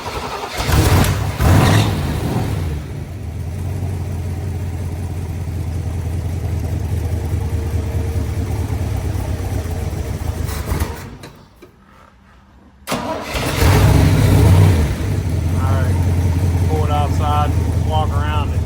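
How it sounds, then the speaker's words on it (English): A red 1967 Corvette coupe with the 427 cubic-inch, 435-horsepower V8 fires up from cold and runs loud and rough, with a deep rumble, a brief cut near the end, then a restart and revving. People talk over it. "Be a cold start on our red 67 427 435. I mean, the engine's cold."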